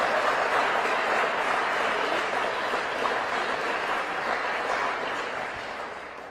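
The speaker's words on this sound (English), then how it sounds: "So let's give a round of applause to those who have made that happen." An audience at a Lutheran school event applauds, a broad, even wash of clapping that runs continuously and slowly fades toward the end, heard alone without talk.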